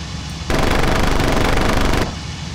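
Sustained machine gun fire from an aircraft in the Il-2 Cliffs of Dover flight sim, a single loud continuous burst of about a second and a half over steady engine drone, with no talk.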